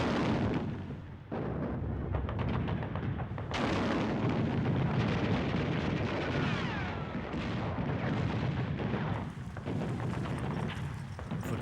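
Wartime combat on a Pacific island brings dense, sustained bursts of gunfire and artillery booms, loud and continuous with heavy rumbling blasts, and no voices.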